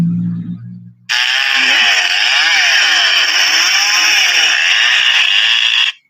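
A chainsaw cuts through tree trunks and wooden logs on land cleared for building a house of worship. After a short low rumble it revs into a loud, sustained, close-up high whine for about five seconds, then cuts off.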